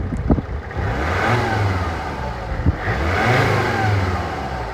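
A Mercedes CLK 270 CDI coupe's diesel engine, warmed up, revs hard twice, each rise in pitch swelling then easing back to a steady rumble, loud and close with no voices.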